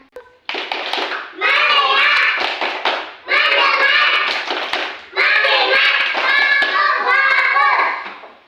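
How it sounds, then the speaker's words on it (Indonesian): Children in a classroom perform a rhythmic 'concentration clap', voices chanting loudly in unison in three bursts with hand claps mixed in. "tepuk konsentrasi."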